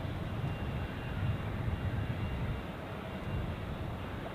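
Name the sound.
airplane taking off from runway 28 at Zurich Airport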